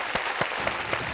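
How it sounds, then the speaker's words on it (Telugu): A studio audience on a Telugu game show applauds in a short, soft burst of clapping with a few sharper claps standing out. "క్లాప్స్ కమాన్."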